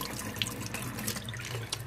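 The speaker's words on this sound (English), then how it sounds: "And then rinse off the grease like so." Water runs steadily from a tap, rinsing grease off in a sink. The flow is close and continuous, with faint splashing and no talking.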